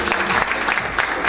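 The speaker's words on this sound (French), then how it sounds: "Je vous demande d'applaudir." An audience at a business panel on African companies claps for a panelist, a short burst of dense, steady applause filling the room.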